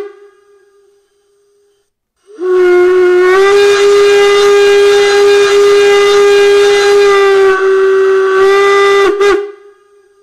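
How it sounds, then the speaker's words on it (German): Long steam whistle from the sound module of a gauge 1, 1:32-scale class 24 model steam locomotive, a loud, steady, reedy whistle held for about seven seconds, then a short second blast, heard alone without talk. "Funktionstaste 13 gibt es einen langen Achtungspfiff in 2 Varianten."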